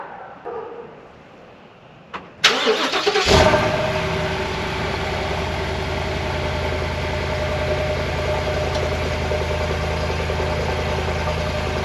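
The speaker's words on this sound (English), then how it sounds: "let's go ahead and do this first cold start on the channel for the F-250" A 2020 Ford F-250 with the 7.3L engine makes a cold start: a few faint noises, then a short starter crank, before the engine catches and settles into a steady, loud idle rumble.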